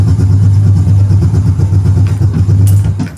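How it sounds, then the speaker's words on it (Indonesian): A Yamaha Jupiter Z1 motorcycle with a weak battery, kickstarted and now running: a loud, close, steady low engine thump at idle, ending with a brief rattle. "Dan ketika coba untuk dinyalakan, kita kickstarter"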